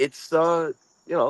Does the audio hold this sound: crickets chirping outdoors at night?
yes